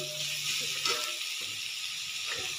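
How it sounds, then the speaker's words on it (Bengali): Onions frying in a pan for a spinach sabji, a soft, steady sizzle and hiss close by with a few faint stirring knocks, no talking. "আমার পেঁয়াজটাও প্রায় ভাজা ভাজা হয়ে এসছে।"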